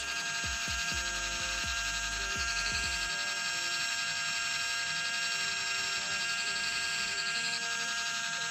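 Electric nail drill roughing up a fingernail in preparation for polygel, a thin, steady high-pitched whir with a few short low buzzing bursts early on as the bit touches the nail.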